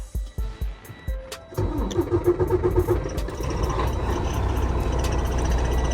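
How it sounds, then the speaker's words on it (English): A diesel truck engine cranks in several short bursts, then fires up and settles into a loud, steady idle that runs to the end. "So first things first, like the other one, turn your truck on."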